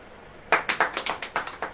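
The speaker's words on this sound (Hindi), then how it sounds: "ताली बजाओ।" A congregation at a church service claps hands in a brisk, even rhythm, about a dozen sharp claps starting suddenly after a quiet moment and carrying on steadily.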